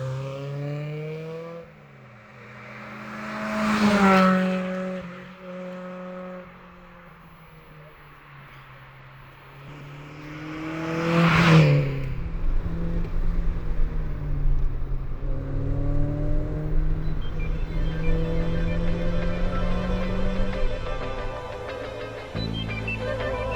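A Toyota AE86 running its original 4AGE 16-valve engine with some modifications, revving up hard twice with rising howls between gear changes, then holding a loud steady drone close by.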